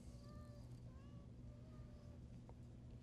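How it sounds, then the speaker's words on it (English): A cat meow sample plays back on a Roland SP-404MKII sampler: several faint, short, pitched meows in a row, sitting under a steady low background hum. "C for cat meows."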